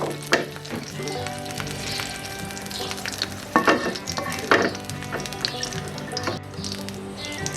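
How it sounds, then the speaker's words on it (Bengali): Chicken pieces fry in ghee with a dense, crackling sizzle, accompanied by intermittent stirring scrapes and utensil knocks against the pan. "আমি এখন চিকেনগুলো যে উঠিয়ে রেখেছিলাম সেই চিকেনগুলোকে একটু ঘিয়ের ফ্লেভারে ভেজে নেব"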